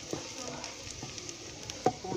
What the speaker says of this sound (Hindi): प्याज साडा देखो घ्यो दे विच भुज गया।